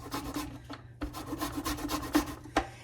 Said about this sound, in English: and the zest of 1 clean lemon